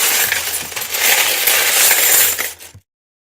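Silver coins from a roll spill out in one continuous, loud cascade of close metallic clinking and rattling lasting a few seconds before stopping abruptly.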